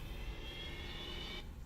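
A flying ground car in the Blade Runner video game lets out a faint, steady jet-like whine that holds evenly, then cuts off just before the end.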